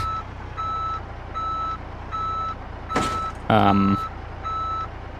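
In Euro Truck Simulator 2, a truck backs up to a trailer with regular reversing beeps repeating about every three-quarters of a second over a low engine rumble, with a short hiss and a brief mechanical clunk partway through.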